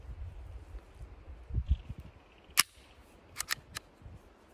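A single sharp report from a Sig P322 pistol firing supersonic ammunition, one loud crack standing alone, followed shortly by a few fainter metallic clicks.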